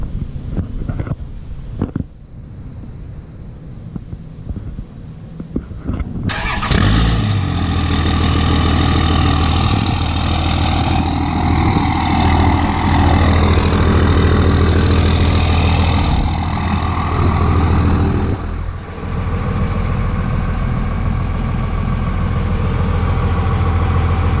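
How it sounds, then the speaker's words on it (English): A 2001 Dodge Ram 2500 with a 5.9L 24-valve Cummins diesel and an MBRP 4-inch exhaust cranks and fires on a mild cold start, then settles into a loud, steady, deep idle rumble close by, with some wind noise. "Let's do the cold start. Not really cold, about 70 out. First start up with the 4-inch."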